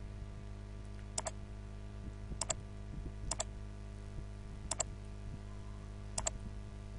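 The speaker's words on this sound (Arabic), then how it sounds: "نضغط على الكيبورد كنترول اكس او ديليت" Computer keyboard keys are pressed in five separate, sharp clicks spaced roughly a second apart over a low steady hum, faint and close.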